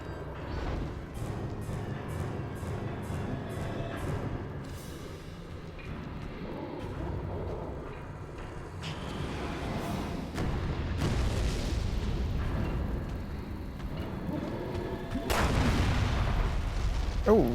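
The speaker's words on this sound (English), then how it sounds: "Now it's time to use these exploding barrels." Exploding barrels going off in the survival-horror video game Resident Evil: Revelations 2 on Nintendo Switch: a run of booming blasts and sharp gunshot cracks over steady game noise, fairly loud and up close, with no talk.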